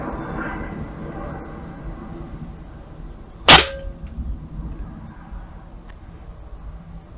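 One crisp airgun shot firing a Barracuda light pellet, a sudden close crack with a brief metallic ring, then quiet outdoor ambience.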